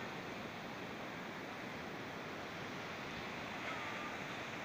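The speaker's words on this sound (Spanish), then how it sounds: "al frente el Océano Pacífico por cierto" Pacific Ocean surf at Playa Bejuco, Costa Rica, makes a steady, even roar of breaking waves with no voices and no clear pauses.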